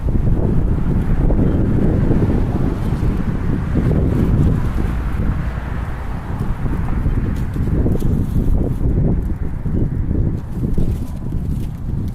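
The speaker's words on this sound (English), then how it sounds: "This wind is a little powerful." Strong wind buffeting a microphone outdoors at a California camp, a loud, continuous low rumble with gusty surges throughout, no voices.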